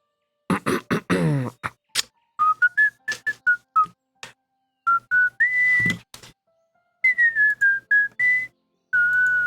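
A man attempts to whistle, producing a series of short, wavering, breathy whistled notes with gaps between them, close and fairly loud, broken by a few clicks and rough exhalations.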